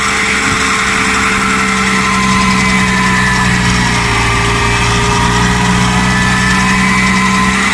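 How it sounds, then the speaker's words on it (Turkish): A loud tractor engine straining under load while baling hay, running hard and steady, a constant heavy rumble with a droning whine that never lets up. "bağda traktörü ne kadar zorladığını duyabilirsiniz arkadaşlar."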